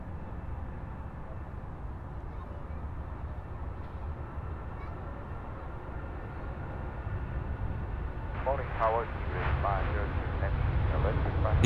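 A Cebu Pacific Airbus A330-900neo rolls for takeoff on runway 16R at Sydney Airport, a distant low jet rumble that slowly builds louder toward the end.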